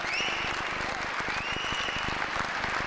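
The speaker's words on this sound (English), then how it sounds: "Crowd are loving this." Dense, steady applause from a squash crowd fills the whole stretch at a 2001 Flanders Open final, with rapid overlapping claps holding a constant level throughout.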